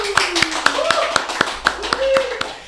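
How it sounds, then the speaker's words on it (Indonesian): An audience at a podcast event claps in a brisk, evenly spaced rhythm of sharp hand claps, fairly close, while a voice talks quietly underneath. "Tepuk tangan dulu, teman-teman."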